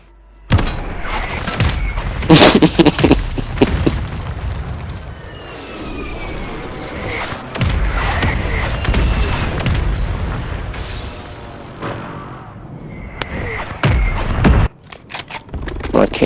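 Mortar explosions and bursts of gunfire ring out in the Call of Duty video game, booming blasts and rattling shots repeating through the stretch, with aircraft noise and player talk mixed in.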